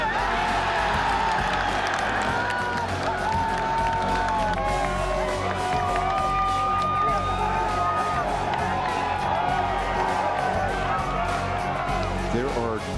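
A golf gallery at the 18th green of the Masters at Augusta roars, cheers and whoops loudly and continuously, with clapping throughout and a commentator talking over the noise.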